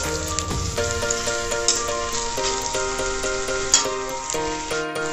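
Sliced onions fry in hot oil for a desi-style Odia mutton jholo curry, a steady soft sizzle throughout with background music playing over it.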